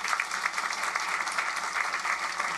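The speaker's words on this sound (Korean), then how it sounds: "인사하실 때 박수 한번 해주세요" A church congregation claps together in a dense, even burst of applause during a Korean New Year's Eve worship service, steady and fairly loud throughout.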